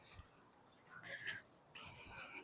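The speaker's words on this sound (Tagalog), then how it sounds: "Ayan naman si Kuliglig." Crickets chirp on a hot early morning, a steady high-pitched trill running unbroken and fairly faint, with a few soft background noises underneath.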